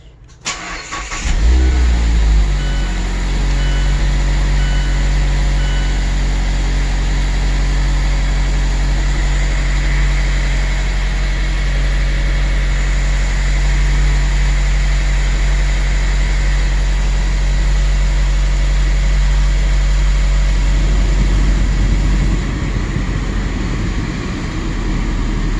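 2016 Mazda MX-5 Miata engine cranking and starting, then settling into a steady loud idle close by with a brief louder shift near the end, no talking.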